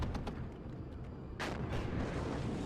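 Cannon-armed Jagdpanzer tank destroyer firing in the WARNO real-time strategy game: a sharp, loud cannon report at mid-clip with a lingering rumble, preceded by several faint distant shots over battlefield ambience.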